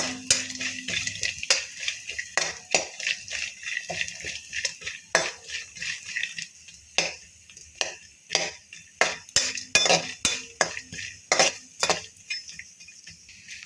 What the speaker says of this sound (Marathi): तूप गरम झालं की त्यात बदाम टाकून परतून घ्यायचे